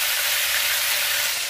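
Beef sizzles and fries loudly in a hot pan as it goes in for Tex-Mex carne guisada, a steady, dense crackle with no talking.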